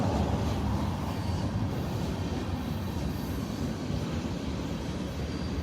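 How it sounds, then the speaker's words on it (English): A Union Pacific train hauling two Brightline trainsets rumbles past in Indiana or western Kentucky, a steady, loud low-pitched roar of engines and rolling wagons that holds constant throughout without a break. "Union Pacific train carrying 2 Brightline train sets."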